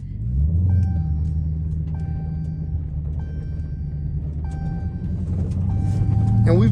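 A Dodge Hellcat engine rumbles low and steady from inside the car while it slides through turns on a wet road, the tone rising near the end, with faint beeping tones over it.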